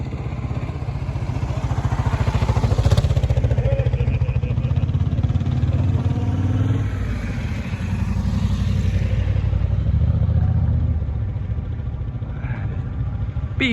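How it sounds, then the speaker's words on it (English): Several dual sport motorcycles, among them a big BMW, ride past on an off-road group camping trip outside San Diego, their engines a steady rumble that builds and fades as the bikes go by. "I see bikes coming"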